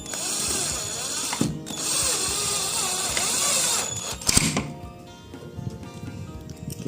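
Power drill driving screws into a PVC ceiling joint joined with short light-steel framing, a steady close whirring whine that stops and restarts, with a sharp clack between runs.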